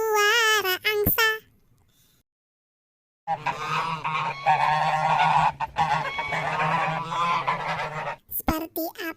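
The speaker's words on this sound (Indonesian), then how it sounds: "Seperti apa suara angsa?" A goose honks loudly and repeatedly up close in a series of nasal calls, pausing briefly before a longer burst of honking and a few final sharp honks.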